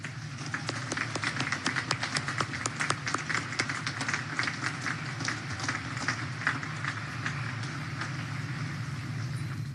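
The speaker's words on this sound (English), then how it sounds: "please join me in giving them a heartfelt round of applause" Audience applause at the Naval Academy commencement ceremony, a steady dense wash of many hands clapping outdoors over a low rumble, with sharper individual claps standing out throughout.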